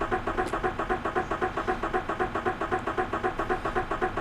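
A car engine cranks over and over without catching, a steady rapid chugging starter rhythm repeating throughout at close range, with no voices.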